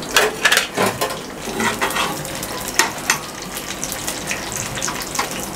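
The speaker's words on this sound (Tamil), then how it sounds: "கருவேப்பிலையை போட்டுட்டு இந்த வெங்காயத்தை அதிலே போட்டுருங்க." Onions frying in ghee with curry leaves on a griddle for mutton varuval, a bright crackling sizzle with stirring scrapes, busiest early and then settling into a steady hiss, no speech.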